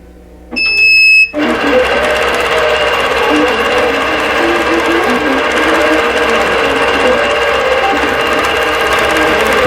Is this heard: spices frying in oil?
no